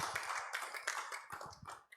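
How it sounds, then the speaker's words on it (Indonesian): A church congregation at an online Sunday worship service claps briefly, giving quiet, scattered hand claps with short sharp taps heard from a distance. "Kasih tepuk tangan dulu buat Tuhan."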